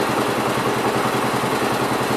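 A Gravely tractor engine runs steadily at close range, a loud, even, rapidly pulsing chug with no voices.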